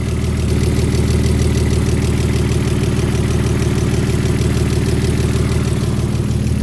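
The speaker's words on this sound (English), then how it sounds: "The turbo sounds very good because I can hear that." A BMW E39 with a turbocharged M54 engine, running steadily nearby in a loud, even drone with a faint rhythmic pulse and no talking.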